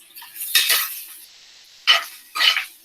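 Kielbasa being cut for Polish hunter's stew, with sharp clinking scrapes of a metal utensil on a pan or board in three short bursts separated by near silence, close and bright.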